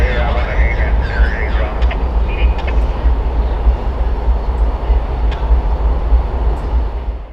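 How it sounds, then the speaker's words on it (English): A BNSF switcher locomotive in Whitefish backs out of the rail yard, a heavy continuous low diesel rumble with wheel and car noise, close and loud, with a voice briefly audible early on. "the BNSF Whitefish switcher backing out of the yard before heading east to switch a customer on the outskirts of town"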